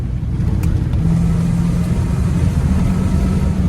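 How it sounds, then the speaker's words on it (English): A 1993 Ford F250 pickup truck climbing uphill in third gear, its engine giving a loud, steady, low rumble that holds constant throughout with no talking. "Third gear. I am going uphill."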